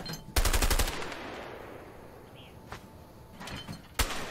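Gunfire in the video game A Way Out, with a loud burst of rapid shots near the start, then scattered single shots and a final sharp crack, over a low ambient game background.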